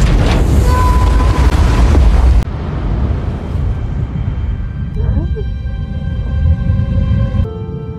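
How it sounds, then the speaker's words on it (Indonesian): A grenade blast in a film scene hits as a loud, broad boom that roars for about two seconds and then cuts off, followed by a lower rumbling tail with a faint ringing tone and scattered debris noise. "Jesse akhirnya meledakkan granat itu dan seketika membunuhnya"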